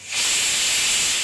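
Gas stove burner switched on and turned to high flame under a pressure cooker of jackfruit, giving a steady, loud broadband hiss that rises quickly and holds evenly without a break.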